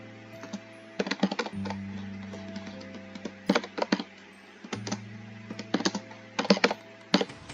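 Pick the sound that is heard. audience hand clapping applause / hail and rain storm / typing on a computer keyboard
typing on a computer keyboard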